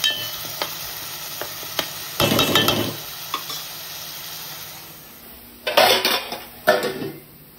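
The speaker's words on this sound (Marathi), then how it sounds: "झाकण देऊया आणि शिजायला ठेवूया." A metal lid goes onto a pressure cooker of Aagri-style mutton biryani, with several sharp clanks and rattles against the pot between quieter moments and faint sizzling.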